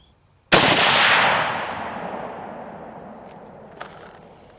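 A single loud, close 30-06 rifle shot fires a 168-grain Sierra MatchKing load, its sharp crack rolling into a long echoing decay across an outdoor range, with a faint click near the end.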